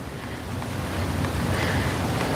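Gusty wind roars across the microphone at the Waikiki shoreline, blending with the broad wash of surf in a continuous, loud rush with no voices.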